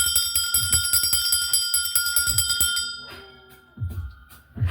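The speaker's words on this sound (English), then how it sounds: "I'm going to have to ring this bell" A small hand bell rung repeatedly in quick rhythmic strokes, bright and close, for about three seconds before stopping and leaving a few soft knocks.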